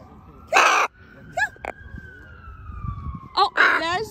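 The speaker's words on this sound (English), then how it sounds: "I just hear the ambulance" An ambulance siren in a park rises as a faint, steady distant wail, with short bird whistles and brief breathy vocal sounds over it.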